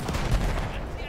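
Battlefield 1 field gun firing: a short, loud artillery blast with a rumbling low-end boom amid noisy battlefield ambience.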